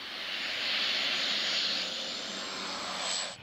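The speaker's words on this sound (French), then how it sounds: "le Canadair est le seul avion au monde construit spécialement pour lutter contre les incendies" A Canadair firefighting water-bomber flies past, its engine roar broad and steady at fairly close range, swelling slightly mid-pass and then fading at the end with no talk over it.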